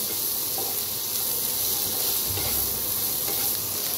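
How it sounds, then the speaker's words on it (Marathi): Onion, garlic and ginger fry in a pan for a spicy egg curry, giving a loud, dense, continuous sizzle with faint stirring underneath and no speech. "आता ह्याच्यातच कांदा भाजून घेऊया, ह्याच्यातच टाकूया लसूण आणि आलं, त्याला बी भाजून घेऊया।"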